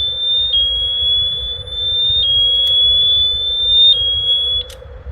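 A loud, piercing electronic alarm tone from an Abus Bordo 6000KA bike lock sounds continuously at close range, holding a high steady pitch with slight wavering.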